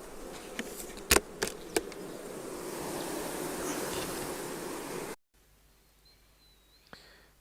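Honey bees buzz in a dense, steady swarm at an open hive during queen rearing, with a few sharp knocks early on. The sound then cuts to near silence with one faint tap.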